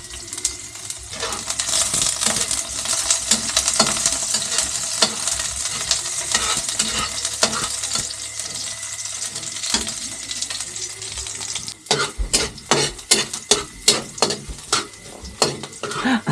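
Onion and garlic sauté in a pan for a home-cooked vegetable dish, a steady loud sizzle under close stirring that turns into a run of sharp, rhythmic scrapes toward the end.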